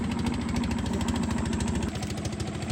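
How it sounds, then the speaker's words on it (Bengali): A passenger trawler boat engine chugs on a river with a fast, steady mechanical throb, loud and continuous, easing slightly near the end. "নদীর ভিতর ট্রলার যাচ্ছে,"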